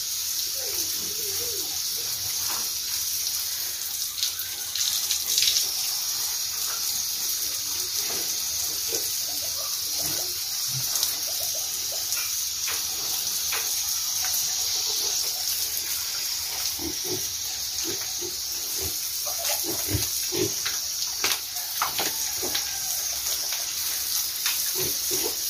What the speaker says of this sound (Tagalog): Paliguan talaga. Umaga, tanghali at hapon yung paligo dito.